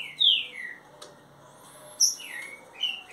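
A young Trinca-ferro songbird sings softly, with a few sweet chirping phrases that rise and fall, spaced apart over a hushed, quiet background at close range.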